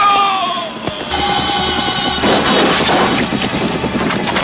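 Gunfire and loud impacts ring out in a dense, chaotic burst during a climactic Chucky horror movie scene, with booming shots layered over a music score and no speech.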